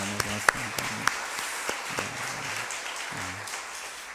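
A church congregation claps to encourage its small-group leaders: scattered, fairly quiet applause with a few distinct claps, under someone speaking.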